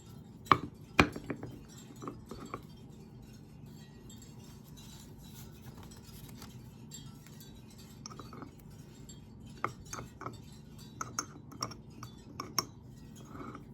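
Intermittent clinks and taps of a utensil against a glass or ceramic vessel while garlic is mixed into protection powder, scattered sharp ticks over a quiet, soft scraping background.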